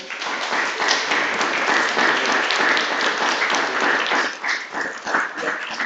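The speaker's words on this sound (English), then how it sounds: "So please big applause for her also." An audience at a general assembly breaks into sustained applause, a dense wash of clapping hands that holds steady before thinning slightly near the end.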